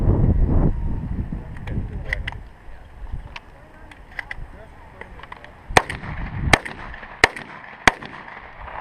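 Shotgun shots ring out during a team shotgun match outdoors, with four sharp, loud reports spaced under a second apart near the end, following a stretch of wind noise and muffled voices.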